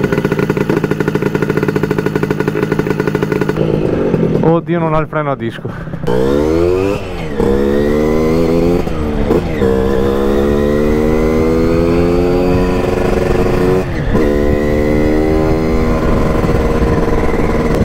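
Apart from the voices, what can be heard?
Zuera SS moped engine running while riding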